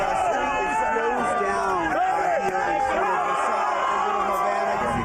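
A rapidly growing crowd gathered in the streets of Little Havana, Miami, fills the air with dense babble and raised voices, a continuous outdoor hubbub with occasional shouts.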